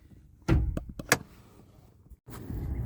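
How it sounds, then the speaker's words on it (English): A car hood is popped open with a sharp clunk and a few quick mechanical clicks and knocks, then a rustling handling noise, close by. "Let's pop the hood and show you some issues."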